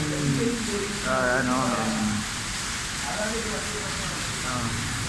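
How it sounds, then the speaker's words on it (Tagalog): Heavy rain pours down during flooding in Dubai, a steady broadband hiss of downpour running through the whole stretch, with voices talking over it. "Ang lakas ng ulan."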